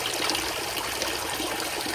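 Steady bubbling, gushing water from an aerator in a tarpaulin crayfish pond fills the whole clip, a constant close rush of aeration with no talking.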